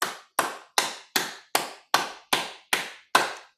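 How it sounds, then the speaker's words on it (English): Nine sharp hand claps in a steady, even rhythm during a qigong practice session, each crisp and close with a short decay, with no talking. "we're going to clap our hands in sequences of 9"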